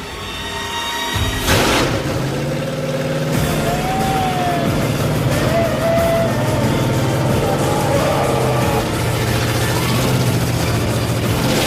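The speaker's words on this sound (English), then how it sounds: "Nothing sounds as sweet as a blower motor" Supercharged blower-motor car engine in a build competition, starting with a sharp catch and then running at a loud, rough, steady idle close by, with a faint whine over the rumble.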